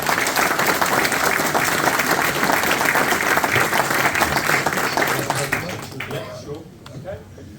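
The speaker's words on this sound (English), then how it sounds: "round of applause" A live convention audience at a retro computing event gives loud, sustained applause and cheering for a veteran Spectrum games writer, thick and close, then tapering off abruptly as the room quiets toward the end.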